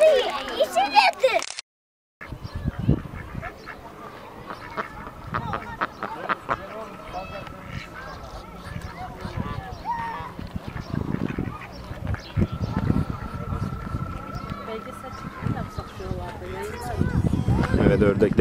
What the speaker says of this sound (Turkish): Evet, ördekler çiftleşiyor.